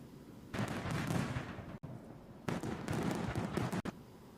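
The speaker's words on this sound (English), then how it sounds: "So quick burst of fireworks for 210 likes." A quick burst of fireworks pops and crackles in two loud, dense bursts separated by a brief gap, with no talking.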